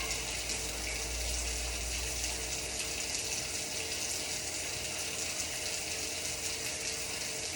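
Tap water runs steadily from a faucet as hands and arms are wetted for a surgical scrub in a veterinary setting, a constant close hiss with no speech over it.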